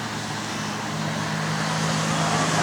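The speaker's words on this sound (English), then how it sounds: "I don't like this traffic sounds." Steady road traffic rumbles outdoors from start to end, a broad continuous roar with a low engine hum that swells slightly louder toward the end, with no talking over it.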